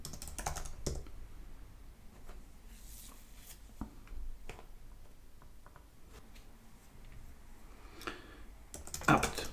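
Terminal commands are typed on a computer keyboard to set up a Raspberry Pi NAS, with sparse, close key clicks in irregular bursts and a few louder taps near the end, with no talking.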